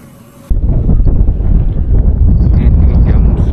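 Strong night wind buffets a hilltop campsite in Dieng, a loud constant roar of gusts hitting the microphone after a brief quieter start.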